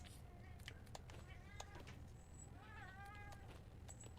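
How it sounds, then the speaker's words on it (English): Several cats in a video game meow faintly with rising and falling calls, set over a low rumbling background and scattered clicks. "Can you hear the cats?"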